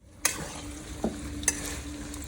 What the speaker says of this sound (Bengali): বন্ধুরা, আলু আমার ভাজা হয়ে গেছে